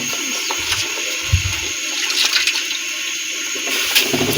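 Water pours out as soaked rice is drained for a white beef pulao, a steady splashing, gurgling flow heard close and fairly loud with no talk.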